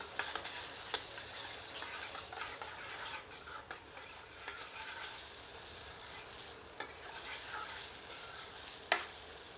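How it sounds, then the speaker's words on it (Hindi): Chicken with strained yogurt fries on high heat while being stirred, a faint steady sizzle with occasional soft scrapes and clinks of a spoon against the pan. "मिलाकर 1 से 2 मिनट तीव्र आंच पर भूनते हैं।"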